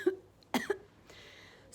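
A man coughs in a few sharp bursts, close by, followed by a quiet rasping breath.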